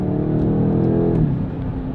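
Inside a BMW G90 M5 with its stock exhaust, the engine hums as a low, smooth drone that rises slightly in pitch before easing off, muted and close with no talking.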